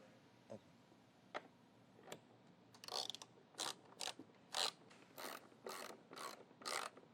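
Ratcheting clicks as 10mm bolts are tightened on the vacuum motor housing of a Tennant T500 floor machine, a few isolated ticks followed by repeated short bursts of ratchet turns, fairly close with no talking.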